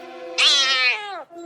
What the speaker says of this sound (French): J'ai l'impression que c'est un chat abandonné.